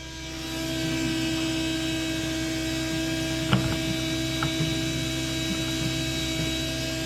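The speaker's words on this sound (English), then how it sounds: "So you've got your fuel pump running." A fuel pump runs in a supercharged 1UZ Hilux ute, a steady electric hum and whine holding at an even level throughout, with a couple of faint brief clicks partway through.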